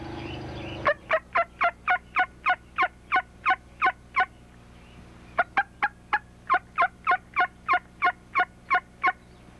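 A wild turkey in spring hunting woods gobbles in long runs of rapid, evenly spaced calls, two clear bursts of gobbling standing out loudly against a quiet background.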